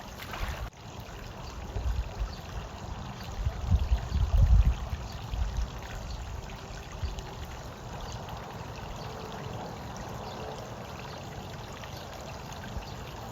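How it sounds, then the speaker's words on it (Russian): Gentle splashing and trickling water as a woman swims in a garden pond, soft movement sounds close by with a slightly louder burst of sloshing partway through, otherwise quiet. "а теперь я плаваю"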